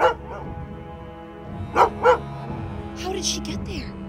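A dog in a forest setting barks a few times, sharp bursts standing out near the middle of the clip amid background music and voices.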